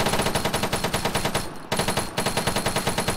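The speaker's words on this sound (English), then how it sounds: "a mini machine gun. As well, a 200 round box." A mini machine gun with a 150-round box fires in Arma 3, loud rapid automatic bursts with a brief pause midway before the stream of shots resumes.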